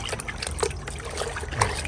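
Water trickles and splashes steadily as a car air intake filter is rinsed, a close, continuous wet dribbling with small irregular spatters throughout and no talking.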